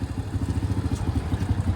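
A Honda Dream C100 motorcycle engine idles close by just after starting, putting out a quick, even low putter with a slightly uneven, clattery pulse.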